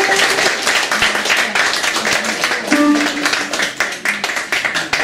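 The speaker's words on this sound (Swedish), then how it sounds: "En applåd för blåsarna." Audience applause for the wind players at a concert, a sustained crowd of hands clapping with brief tonal instrument notes and faint voices mixed in.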